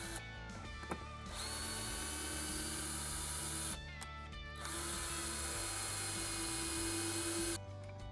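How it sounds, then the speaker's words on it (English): A power drill pre-drills pilot holes for lag bolts in long, steady bursts, pausing briefly between runs, close and loud with a high mechanical whine and no talking. "So I'm pre-drilling, and then I'm pre-screwing the holes"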